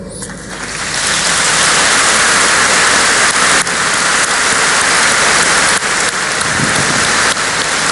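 An audience at a business forum talk breaks into applause, a thick, loud roar of many clapping hands that builds within the first second and stays sustained and even with no talking.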